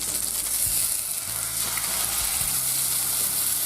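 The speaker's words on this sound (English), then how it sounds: "that's enough to fry our duck fillet" Duck fillet frying skin-side down in a pan, a steady close sizzle with soft crackling and faint spatter, continuous and alone for several seconds.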